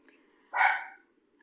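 A pet dog gives a single short bark indoors, moderately loud and slightly removed, standing alone against near silence.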